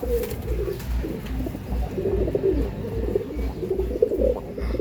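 Pigeons kept for tournament flying coo in a close, continuous low rumble, with overlapping calls pulsing in a steady rhythm and no one speaking.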